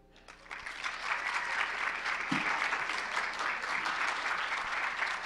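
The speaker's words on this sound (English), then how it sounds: "Let's have another round of applause for contestant number 3." A contestant at a hospitality pageant receives audience applause that builds quickly from a few claps into a full, steady roar of clapping from a large crowd lasting several seconds.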